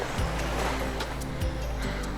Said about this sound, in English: I can hear the waves already.